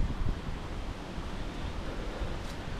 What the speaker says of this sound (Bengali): আজকের ওয়েদার খুব ঠান্ডা হাওয়া দিচ্ছে